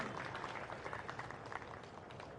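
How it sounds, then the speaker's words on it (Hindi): An audience at a Hindi religious discourse on Ram Rajya claps in brief, faint scattered applause heard from a distance. "उनके लिए ताली बजाओ जोरदार"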